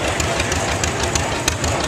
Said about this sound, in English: Here we got Dan Stauffer in a 1939 John Deere L.